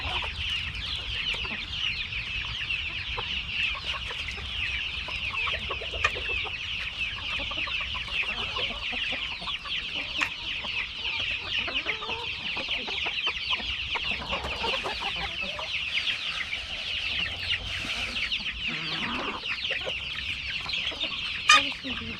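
Roosters and hens on a family farm cluck and chatter continuously at moderate distance, a busy flock murmur with occasional sharper calls and faint voices in the background.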